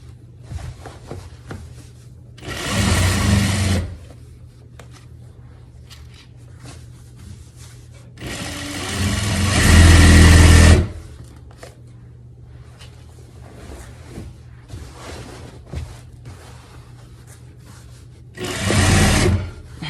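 A sewing machine stitches heavy dress fabric in three loud, close bursts, the longest in the middle, separated by quieter stretches of low hum and faint handling sounds; no one speaks.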